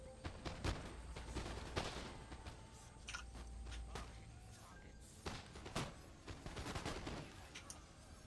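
Line infantry in the Empire Total War video game fire musket volleys by rank: faint, scattered crackling gunshots and thumps ripple continuously in uneven clusters over a low battlefield rumble, heard at a distance.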